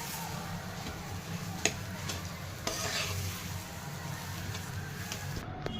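Potato bhaji for vada pav is stirred in a pan after the gas is switched off, giving soft scraping and stirring with light sizzle, plus a couple of sharper clicks from the spoon against the pan.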